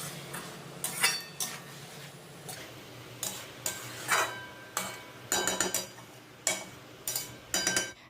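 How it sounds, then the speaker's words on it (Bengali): Fried potato and young jackfruit with spices being stirred in a pan, a series of irregular metallic scrapes and clinks of a utensil against the pan, close and clear, with no talk. "তারপরে খুব ভালো করে নেড়েচেড়ে মিশিয়ে নেব"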